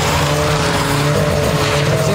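A Lotus 2-Eleven sports car on a test track, traction control set halfway, squeals its tires through a short oversteer slide while the engine roars loudly and close throughout.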